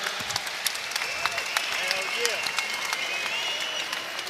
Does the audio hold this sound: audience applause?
yes